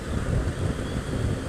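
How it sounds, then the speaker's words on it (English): Steady wind buffeting a helmet microphone on a motorcycle commute with the visor up, a continuous low rumbling roar that fills the whole stretch without letup and with no voice over it. "in the lower setting you can hear the wind, and you can't have your visor, up, because I can feel the wind hit my eyes now"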